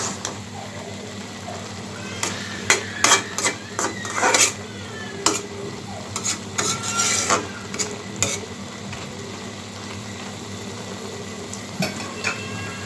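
Eggplant, potato, tomato and kaski fish are stirred and sautéed in a pan, with scattered scraping clinks of a utensil over a low sizzle, close and moderately loud, settling into quieter cooking noise.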